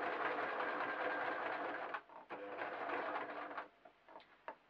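A sewing machine stitches fabric for a sheep-shaped door stop, running as a steady, close mechanical whir, then stopping and restarting in shorter bursts with small clicks between.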